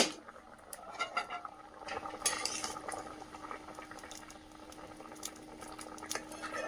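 Potato and cumin curry bubbling in a covered pot, a low steady boil with soft irregular pops and patters close by, no voices.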